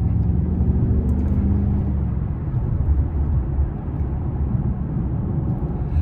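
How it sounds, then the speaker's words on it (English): A 2023 Maserati Ghibli Trofeo with its Ferrari-built V8 drones steadily while driving, a loud, continuous low rumble that holds for the whole stretch without clear pops standing out. "Really cool pops and burbles on the upshifts as well."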